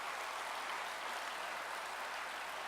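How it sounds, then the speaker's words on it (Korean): A congregation applauding teachers during a Sunday evening church service, a steady wash of clapping heard alone at a consistent level throughout. "함께 우리 박수로 축복하며"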